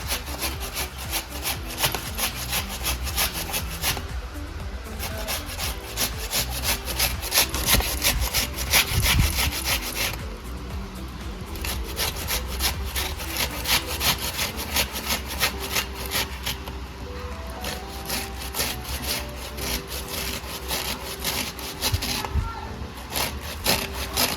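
Boiled, peeled beetroot is rubbed against a fine kitchen grater in a steady, continuous scraping rhythm, close and fairly loud, with no talking over it.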